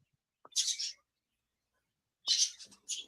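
Small pet birds in a room give a few quick, high chirps in two separate clusters with silence between them, faint and in the background.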